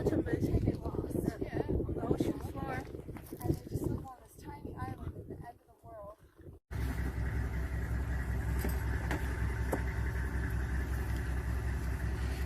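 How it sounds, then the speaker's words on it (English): A car drives through the Sinai desert, its steady engine drone and road rumble filling the second half after a stretch of people talking outside with wind noise. "Getting in the car from Gebel el Gunna."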